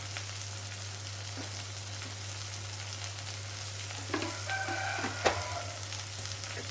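Chili powder and coriander powder roasting in oil for a pirandai kuzhambu give an even, continuous sizzle under a steady low hum, with a few stirring scrapes and a clink toward the end.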